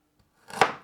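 A knife chopping peeled fresh ginger on a board, a single sharp close thunk with a short decay, otherwise quiet.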